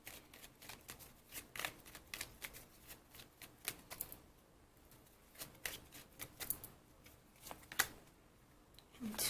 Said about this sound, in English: I'll just pull you 3 cards and then we'll see what happens